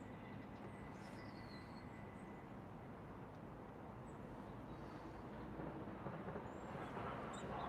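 A Pendolino passenger train rumbles past as a steady broadband roar that holds level and then swells slightly louder toward the end, with no voices over it.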